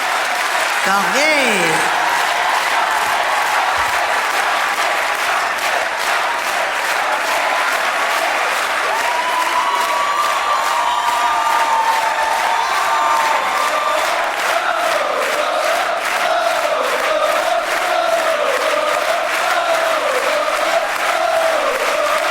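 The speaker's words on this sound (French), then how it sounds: "On applaudit très fort." Concert audience at the Olympia clapping loudly and continuously in a large hall, a thick sustained wall of applause with cheers and shouts mixed in, a voice briefly speaking over it at the start.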